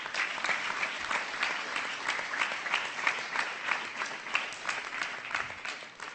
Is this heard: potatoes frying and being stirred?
no